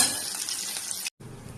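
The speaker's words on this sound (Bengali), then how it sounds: "পেঁয়াজটাকে ভাজা হোক ভালো করে" Onions frying in oil in a pan for a Bengali koi fish dish, a loud, dense, close sizzle that holds steady and then briefly cuts out before resuming.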